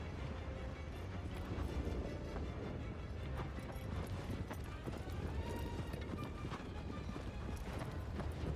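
A horse gallops in the video game Shadow of the Colossus, with steady rapid hoofbeats under a dense, noisy game soundscape of wind and rumble.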